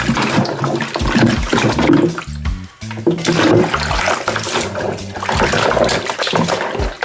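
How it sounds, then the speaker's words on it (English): Running water gushes and splashes steadily into a container of chicken feet being rinsed of vinegar water, loud and close, with a brief lull in the middle before the flow resumes. "And then you pour off the vinegar water. Rinse it again."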